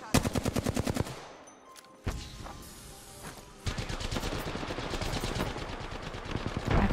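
Apex Legends gunfire: a fast automatic burst opens, a quieter pause follows with a single sharp shot, then sustained rapid fire rattles on loudly to the end.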